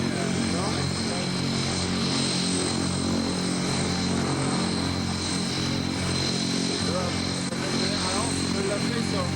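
A propeller aircraft engine drones loudly and continuously at an air show at an air base in Cambrai, with steady harmonic engine tones and voices talking faintly underneath.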